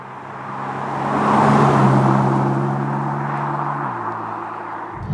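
A BMW M4 CSL on the move from inside the cabin, its engine holding a steady low drone that swells around the second mark, then drops to a lower pitch as it shifts near the end, with road and wind roar throughout.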